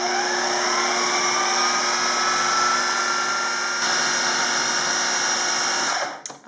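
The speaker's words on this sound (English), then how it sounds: "process that, and that liquid will help it grind a little bit finer" Food processor grinding sprouted grain with sourdough starter, a steady high whirring motor running continuously and loud up close, then stopping abruptly near the end.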